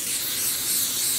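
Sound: pressurized spray bottle spraying dye onto a sock blank

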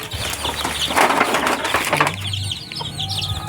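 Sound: hens clucking

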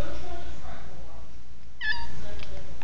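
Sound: cat meowing

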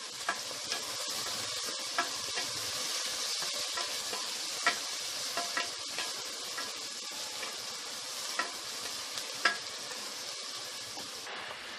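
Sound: onions frying and being stirred in a pan for coconut milk pulav

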